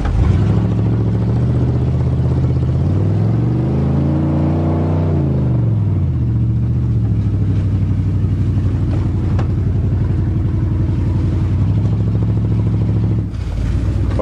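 A 1988 Chevrolet truck on a test drive, its engine loud and close, droning steadily with a rise and fall in pitch as it revs, then settling into a constant cruising hum.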